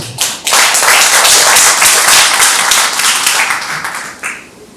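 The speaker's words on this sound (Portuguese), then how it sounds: "Vamos aplaudir essa primeira mesa, por favor" At a literary prize ceremony, an audience applauds the first table of honorees: a loud, close burst of clapping that swells quickly, holds for several seconds, then thins out and fades with a few last claps.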